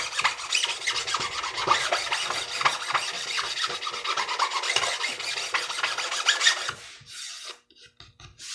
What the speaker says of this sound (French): On peut y passer un coup de lime.